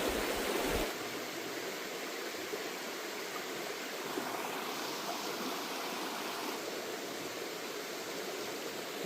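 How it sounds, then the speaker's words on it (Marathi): A forceful river rushes past in a Konkan village, a dense, even roar of flowing water that holds steady and fairly loud throughout. "पाणी बघा किती, फोर्स पण आहे पाण्याला भरपूर"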